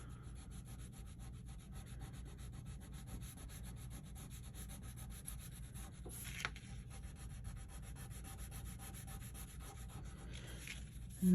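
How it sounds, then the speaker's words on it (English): Colored pencil shading on a colouring book page, a soft, steady, close scratchy rub that runs continuously with no talk. "you're going to color the underside of the body part, not the whole thing, just the underside"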